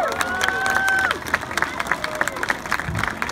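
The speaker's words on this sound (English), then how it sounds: "Please give them a round of applause." An audience at a school-board ceremony during a Rock Hill champions parade applauds and cheers, with brief whistles early on and scattered claps continuing in a dense, fairly loud crowd wash.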